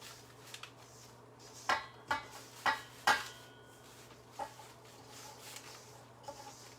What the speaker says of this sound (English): now we will slowly mix our dry into our wet